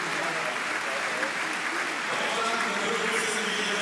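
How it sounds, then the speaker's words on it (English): Applause from a large arena crowd greets a table tennis player being introduced at the 2022 European Championships in Munich, a steady dense wash of clapping lasting throughout with no breaks. "She'll be the next one to be introduced to the crowd, no doubt to great applause from her German fans."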